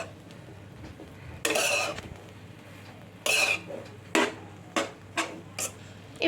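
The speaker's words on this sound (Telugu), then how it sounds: "ఇప్పుడు బ్రెడ్ పీసెస్ని బాగా మిక్స్ చేసుకుందాం" Fried bread pieces are tossed and mixed in a pan with a spoon, giving bursts of scraping, clattering metal against the pan and a string of shorter knocks that come more quickly toward the end, all fairly close.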